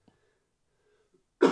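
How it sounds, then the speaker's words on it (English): A single harsh cough bursts out near the end after near silence, close and fairly loud. "I'm going to cough again."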